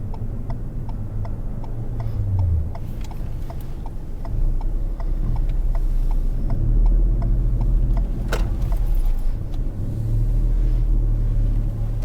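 Traffic passes a learner's car waiting to pull out during a mock driving test, a steady low engine rumble swelling and fading while the car's indicator ticks in an even rhythm inside the cabin.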